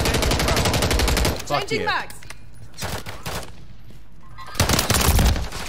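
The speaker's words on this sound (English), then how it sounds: "two volleys and bursts of handgun fire directly to their head" Volleys of handgun fire in the video game Call of Duty, dense rapid bursts at the start and end with a quieter stretch between, while someone speaks and swears over the shots.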